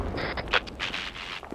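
Gunfire in a military video game: sharp, punchy shots crack through a constant battle rumble, with one prominent report near the start and a smaller burst toward the end.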